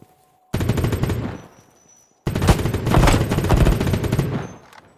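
Automatic gunfire in the mobile shooter Battle Prime, two loud sustained bursts of rapid shots, the first about a second long, the second longer after a brief silence, close and dominant.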